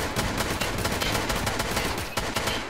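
Rapid automatic gunfire in the game Escape From Tarkov, dense bursts of loud repeated shots in quick rhythm filling the whole stretch, with no talk over them.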